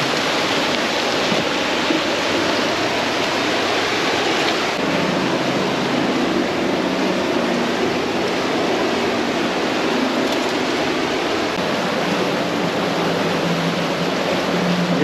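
River water flows over rocks at a trout fishing spot, a loud continuous rushing wash with a slight change in tone midway, close by and with no voices.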